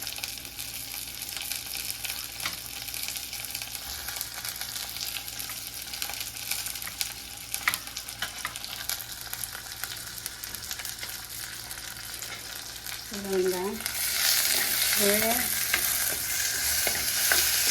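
Tomatoes and onions frying in a clay pot for a Sri Lankan spicy prawn curry, a long steady sizzle with scattered stirring scrapes that grows louder and hissier near the end, briefly joined by a faint tonal sound.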